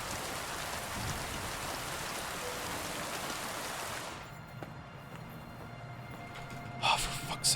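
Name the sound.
rain falling in video game Kingdom Come: Deliverance II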